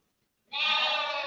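Sheep and lambs bleating on a farm: a single loud, wavering bleat starts abruptly after a brief silence and holds for nearly a second, close up with no talk.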